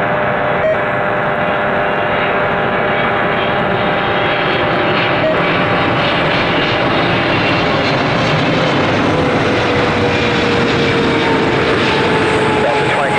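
Loud continuous aircraft engine roar at Toronto Pearson Airport near runway 23, where a PIA Boeing 777-200LR is operating, with radio chatter faintly present beneath the steady drone.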